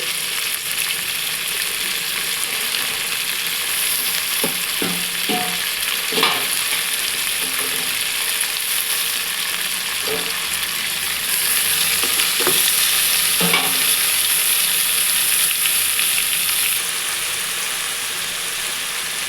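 Onions and tomatoes frying in a pan for a salted fish and drumstick curry, a loud continuous sizzle with scattered scraping knocks of a spoon stirring, the hiss rising for a stretch near the end.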